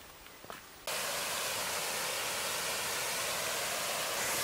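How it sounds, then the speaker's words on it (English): Steady, loud rushing of flowing water fills the clip after a short quiet moment with faint footsteps, continuous and broadband like a nearby waterfall or stream. "We hear the water"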